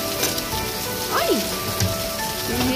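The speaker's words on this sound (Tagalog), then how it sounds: "Tingnan nyo guys, ang lakas ng ulan." Heavy rain pours down in Singapore, a dense, steady hiss of drops drumming on surfaces close by, with faint tonal sounds and brief vocal noises rising over the downpour.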